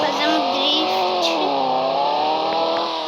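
A powerful car's engine in a Roblox game revs high and steady while drifting, a loud continuous whine with a slight pitch dip partway through.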